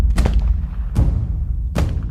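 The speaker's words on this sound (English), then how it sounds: "When she heard the gunshots, she moved toward the sound" Three loud gunshots ring out one after another, each a sharp crack followed by a rumbling echo.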